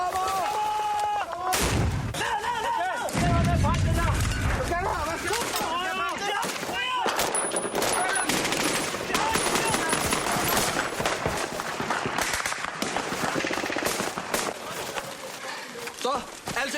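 A Danish military live-fire exercise with artillery rounds going off, several heavy booming shots and crackling bursts across the stretch, with soldiers shouting and talking throughout.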